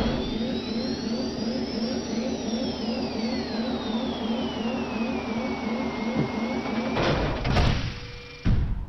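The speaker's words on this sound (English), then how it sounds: "we are now going to ride this elevator up and go see the palace" A lift ride in the video game Jak II: a steady mechanical hum and whir runs continuously, with a rising then falling whine overhead, ending in a few louder clunks as it stops.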